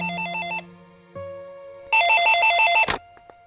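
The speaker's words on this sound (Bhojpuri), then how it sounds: "बेटी तनी देखा था केकर फोन आई?" A telephone rings indoors in a Bhojpuri film scene: a bright electronic ringtone melody plays in a short burst, pauses briefly, then sounds again louder before cutting off.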